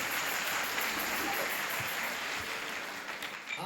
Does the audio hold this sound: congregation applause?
yes